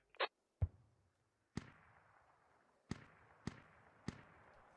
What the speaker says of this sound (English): So US gonna lay down mortar fire on close to the hab